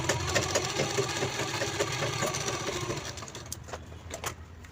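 Sewing machine stitching lining fabric onto a bag pocket, a rapid regular mechanical chatter that runs steadily then slows into a few separate clicks toward the end.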